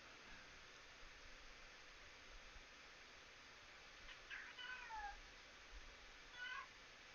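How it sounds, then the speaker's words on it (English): A cat in a fantasy adventure game gives a couple of faint, thin meows with rising and falling pitch over a steady hiss of background noise. "Kitty cat does a scream."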